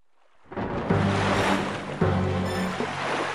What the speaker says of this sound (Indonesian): angin bertiup kencang dan menggoyangkan sebagian badan